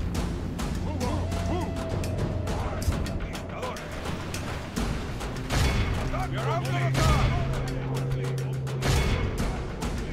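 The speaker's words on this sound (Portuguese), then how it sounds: "Aqui a gente consegue dar uma saraivada de tiro bem ferrada aqui" Musket volley gunfire from a battle in the Medieval 2: Total War video game, repeated sharp cracks and booms in rapid bursts over a dense roar of battle noise and shouting.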